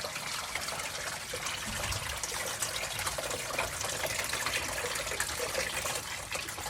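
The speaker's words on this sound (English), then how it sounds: "all the water is getting drained out from the motor" Water from an LG washing machine draining out of its drain hose and pump, a steady broadband gushing trickle that runs continuously and fairly loud with no talk.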